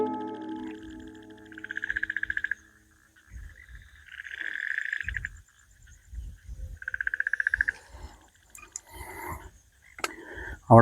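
Frogs croak in rhythmic bursts alongside chirping crickets and other insects at night in a forest near a pool, trilling loudly in repeated waves, with occasional sharper calls between them.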